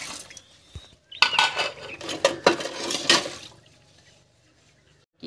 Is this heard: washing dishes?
yes